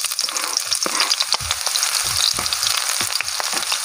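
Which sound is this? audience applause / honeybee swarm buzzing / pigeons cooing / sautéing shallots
sautéing shallots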